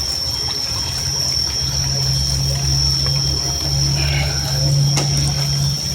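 River water flowing in a continuous, fairly loud wash with a steady low hum and a high constant tone running underneath.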